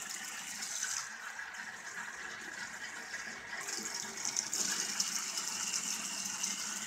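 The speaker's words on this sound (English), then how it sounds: "we're going to add water to the sugar" Water pours steadily onto sugar, a soft hissy trickle close by that swells a little louder partway through.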